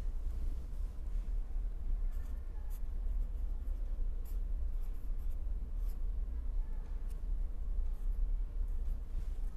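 Chalk or marker strokes scratch steadily across a board while equations are written out, a continuous close scraping with small taps, no voices heard.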